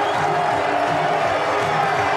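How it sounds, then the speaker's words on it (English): A big cricket crowd roars and cheers in a steady, loud wall of noise after a winning six in Bangladesh's first one-day international win over Australia. "And the crowd are going nuts here."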